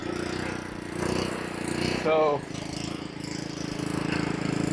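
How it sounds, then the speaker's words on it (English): A lawn mower runs steadily and loudly while cutting grass in winter, its engine drone continuous throughout with a brief louder rattle partway through. "I'm just mowing to mow, like usual."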